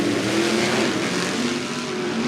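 Limited sprint cars race around the Cottage Grove Speedway dirt oval, a loud continuous engine roar that stays steady throughout.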